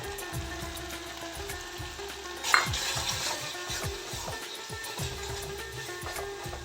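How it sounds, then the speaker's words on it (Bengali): Spice paste of Kashmiri chilli, coriander, turmeric and cumin powders with a little water is stir-fried in a pan for a stuffed pointed-gourd dish, giving a low, steady sizzle with repeated soft scraping strokes heard close up. "মশলাটা আবার কষিয়ে নেব"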